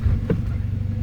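Mercedes-AMG A45 halting abruptly as its door is opened while rolling, a brief thump over a steady low engine and cabin rumble.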